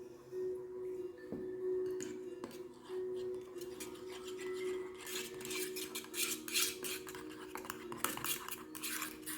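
Olive pit powder being stirred into a facial scrub in a bowl: close scraping and clinking of a utensil against the bowl, growing busier and more rapid in the second half.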